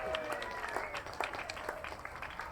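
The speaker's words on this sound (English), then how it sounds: "Give yourself a round of applause." An audience claps together at a bike storytelling night in a coffee and beer bar. The applause is steady and moderately loud for a few seconds, with some tonal background sound mixed underneath.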